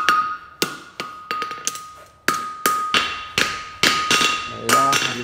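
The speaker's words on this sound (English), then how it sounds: "My hammer hits in the same place" Blacksmith's hammer striking a hot iron bar on an anvil while forging a fullered roll toe, a steady run of about twelve sharp, ringing metallic blows close by, each with a bright ringing decay.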